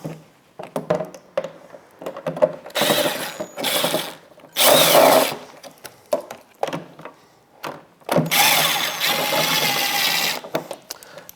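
A power tool buzzes in repeated short bursts while removing 10mm bolts from a Ford Super Duty headlight assembly, loud and close, with gaps between runs.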